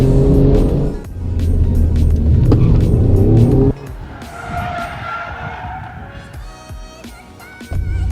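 An Alfa Romeo Giulia Quadrifoglio revs hard and skids into a spin, its tires squealing loudly before the engine note drops and the screech fades, then the engine picks up again at the end.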